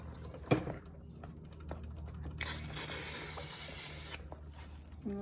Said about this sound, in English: So first, let's give it a good spray.